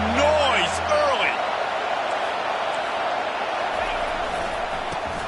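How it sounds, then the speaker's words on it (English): Stadium crowd noise in a college football video game, a broad steady roar filling the whole stretch at a loud level, with a few brief thumps and tonal game sounds near the start. "This crowd bringing the energy and noise early."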